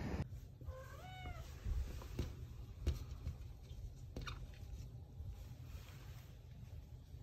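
An outdoor barn cat gives a few short meows near the start, set against steady low wind or water rumble, with a couple of sharp knocks and no talking.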